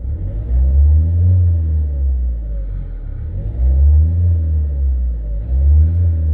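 A car's engine, running roughly and hesitating, revs up in repeated surges as it accelerates, a loud close low rumble rising and falling about three times.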